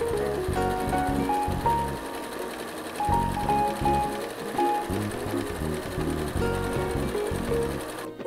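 A sewing machine stitches cushion cover fabric in steady close bursts of rapid mechanical chatter, pausing briefly between runs, with no talking.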